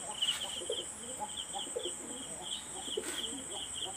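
Domestic pigeons from a small home loft cooing softly in a repeated low, throaty rhythm, accompanied by a steady high insect-like chirring at night.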